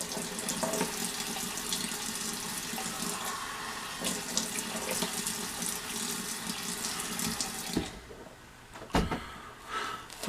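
Water pours steadily from a tap into a sink for splashing the face, a constant hissing stream, close and loud, that cuts off near the end, followed by a few soft knocks and drips.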